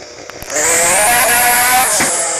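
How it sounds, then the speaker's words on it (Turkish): A car engine in a game revs up sharply after a brief pause, then holds a high, whining, buzzy drone at steady loudness for a couple of seconds with no talk over it. "arabanın sesini iyi izleyin şimdi"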